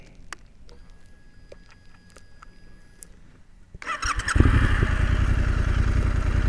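A motorcycle engine cranks and catches at about four seconds, then settles into a loud, steady idle after a quiet stretch of faint clicks and handling noise.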